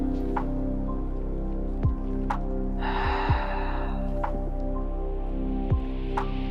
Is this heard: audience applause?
no